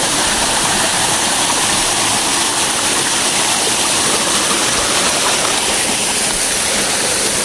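Clear water rushing down a stream at Busay makes a loud, constant roar and hiss, a dense unbroken wash of flowing water right beside the listener with no other sounds.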